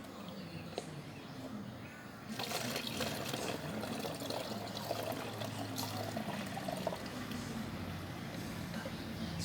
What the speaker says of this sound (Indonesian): Ketika sudah, lalu kita tuangkan ke dalam botol aqua yang telah kita sediakan.